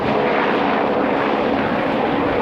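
An aircraft flies over a wildland fire, a loud steady broadband engine roar with no breaks and no voices.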